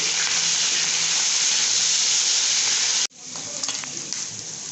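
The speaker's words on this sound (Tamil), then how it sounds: "இப்போ கனவா இறால் இதை சேர்த்துக்கோங்க. கனவா போடும்போது எண்ணெய் தெரிக்கும்" Squid and prawns frying in splattering oil for a restaurant-style mixed chop suey, a loud steady sizzle that suddenly drops away, then resumes more softly with crackles and pops.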